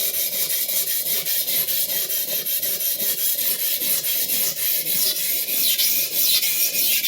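A Clyde Cutlery chef knife is sharpened, starting from the tip, giving a continuous gritty rasping stroke that repeats steadily and close up, with no talking.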